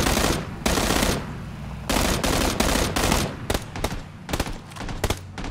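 Gunfire in PlayerUnknown's Battlegrounds, loud rapid bursts of automatic fire with short gaps, turning into quicker scattered shots toward the end.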